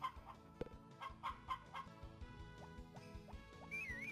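Chickens in Harvest Moon Back to Nature cluck in a busy game scene, several short clucks and a brief crow-like call near the end, mixed with game music and sound effects, no talking.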